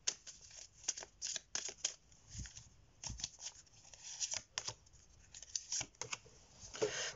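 Oracle cards are shuffled by hand for a reading, producing quiet, rapid riffling clicks and flutters in irregular bursts, close and alone.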